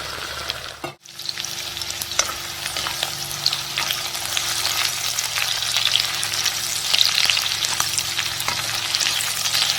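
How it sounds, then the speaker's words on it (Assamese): Onions frying in a pan for a curry, a steady bright sizzle with occasional stirring scrapes, close and continuous after a brief dip near the start. "মই পিঁয়াজ ফ্ৰাই কৰি আছোঁ"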